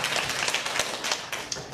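A church congregation claps together for a short stretch, a dense patter of hand claps with no voices over it.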